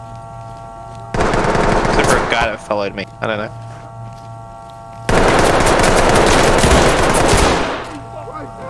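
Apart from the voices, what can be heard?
gunfire in a video game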